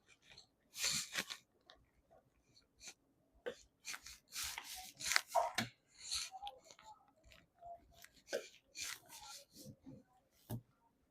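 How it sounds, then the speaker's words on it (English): A knife trims the fat from boneless pork sirloins on a cutting board, making irregular bursts of close cutting, scraping and tapping sounds separated by short quiet gaps. "going to take and cut all the fat off of these as we're doing it because we want these to be nice and lean"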